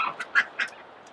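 A duck kept together with geese and chickens quacks three times in quick succession, close and fairly loud with no talk.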